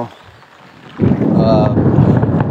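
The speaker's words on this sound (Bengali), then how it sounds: "আপনারা আকাশের আওয়াজটা শুনতে পাচ্ছেন।" Loud, rolling thunder rumbles over a heavy rainstorm above flooded villages in Chandpur, where an embankment has broken. The rumble builds after a quieter first second and stays steady to the end, with wind buffeting the microphone.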